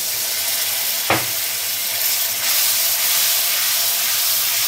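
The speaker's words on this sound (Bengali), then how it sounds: "অল্প জল অ্যাড করছি।" Water splashes into a hot pan of spiced taro, giving a sharp burst near the start that settles into a steady, loud hiss and sizzle lasting several seconds, with no talking.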